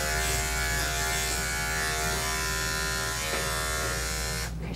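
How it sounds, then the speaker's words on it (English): Electric dog grooming clippers buzz loudly and steadily close up while grooming a Cairn Terrier, a constant motor whine that cuts off abruptly at the end. "she doesn't like the clipper sound"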